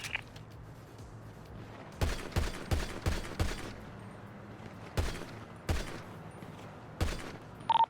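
Gunfire in GTA V NoPixel roleplay, a series of about ten sharp, fairly loud shots, a few in quick succession then spaced out singly over a quiet ambient background.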